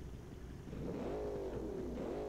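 Twin-turbo sleeper work truck with no exhaust fitted, in BeamNG.drive, revs up loud and close, its engine note climbing and holding in a steady, rising drone.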